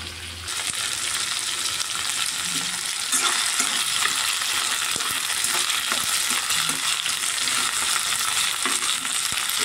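Fish curry with tamarind and tomato sizzles and bubbles in a pan, a steady dense frying hiss running throughout with occasional stirring scrapes, close and fairly loud, no talking.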